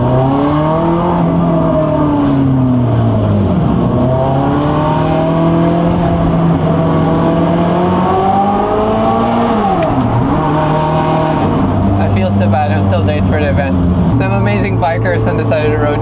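A car engine revs hard and holds high, sustained rising and falling tones, loud and close, with brief dips between pulls while driving along a road.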